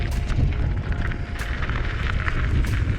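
Overhead power lines near the Dungeness River in Sequim, Washington give a steady crackling, fizzing buzz with scattered sharp snaps over a low rumble, continuous and fairly loud throughout.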